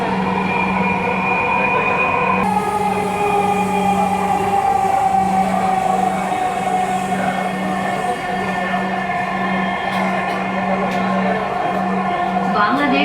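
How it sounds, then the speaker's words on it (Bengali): A Dhaka metro rail train runs between Motijheel and Uttara, heard from inside the car as a steady, loud rolling rumble with a sustained electric hum and tonal whine throughout. "আমাদের ট্রেন চলতে শুরু করলো 4:24-এ।"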